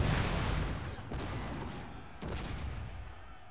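Matchlock gunfire in a Shogun 2 Total War battle, heard as a loud, dense rumble of massed volleys with a couple of sharper reports standing out, and no talking.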